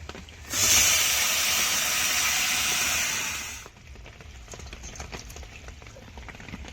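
Fish drops into hot oil with onions fried red, bursting into a loud sizzling hiss that lasts about three seconds and then settles to a faint crackle.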